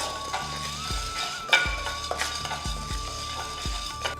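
Chana dal and urad dal roasting lightly in a pan, stirred with a metal spoon that scrapes and taps in a repeating rhythm over a low sizzle, with a steady tone running underneath.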